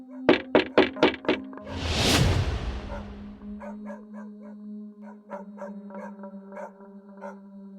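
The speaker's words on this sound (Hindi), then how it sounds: "लेकिन तभी अचानक दरवाजे पर हल्की सी ठक ठक की आवाज हुई" A few light knocks tap on a door in a Hindi horror story, a quick series of raps at the start, followed by a loud swelling sound effect and then softer tapping with a sustained tone.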